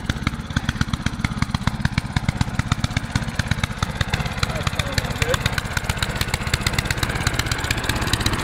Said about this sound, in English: I'm about to get a snowblower lesson here